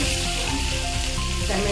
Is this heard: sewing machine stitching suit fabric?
no